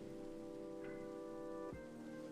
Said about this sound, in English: because it's rain, not thunder.